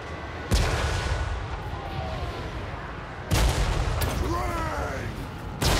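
Units opening fire in Total War Warhammer 3 during a battle against Dwarf tanks: heavy booming volleys burst out several times, loud and close, over a rumbling battle backdrop with speech.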